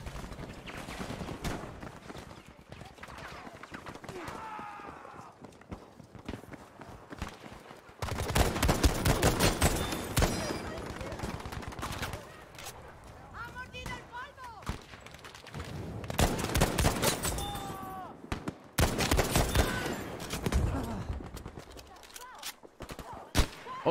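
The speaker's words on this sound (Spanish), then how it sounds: "Están disparando de la espalda, compañero." Gunfire from behind in Battlefield V rattles in dense machine-gun bursts and single shots, with loud volleys near the middle and end and quieter stretches between, while a player talks throughout.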